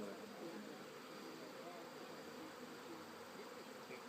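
Italian and Caucasian honey bees at an open hive, a dense, continuous buzzing drone heard faint and steady throughout.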